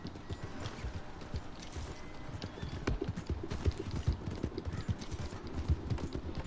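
Horse hooves clip-clopping steadily in an online open-world video game, a continuous rhythmic trot of moderate loudness with occasional faint background noise and no clear talk.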